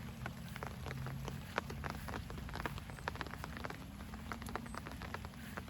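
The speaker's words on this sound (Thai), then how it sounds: "ตอนฝนตกโปรยๆ นะคะ" Light drizzle falls in a soft, continuous patter of scattered drops, fairly quiet and steady throughout, with no voices.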